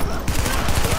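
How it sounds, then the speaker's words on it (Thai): Rapid gunfire rattles in the shooter video game Tom Clancy's The Division, a loud dense burst of repeated shots filling the whole second, fast and close. "ยิงแตกยิงถังน้ำมันตูม"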